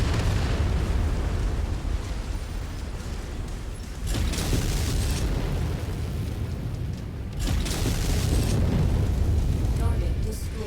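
Heavy artillery explosions pound repeatedly in MechWarrior 5, deep rumbling booms in several waves with crackling bursts, loud and near, while a voice talks over them.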